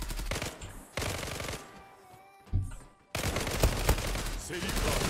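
Rapid automatic gunfire from a weapon in the online shooter Zula comes in loud, dense bursts separated by a short lull, up close and alone without talking.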